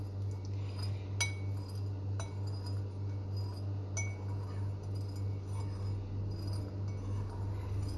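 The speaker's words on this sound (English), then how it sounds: "now we're going to wait for it just to cool a little bit while stirring the eucalyptus oil in" Glass clinks from stirring eucalyptus oil into warm homemade mint ointment in a glass container, a few sharp taps standing out over a steady low hum.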